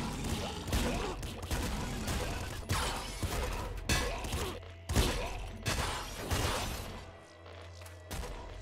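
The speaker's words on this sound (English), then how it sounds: "I can just, like, swap weapons constantly to make them keep firing." Weapons fire in the top-down shooter Nuclear Throne Ultra Mod in dense, overlapping volleys of cracks and crunching impacts. The noise stays loud and nearly constant, breaking briefly at a couple of points, with no voices.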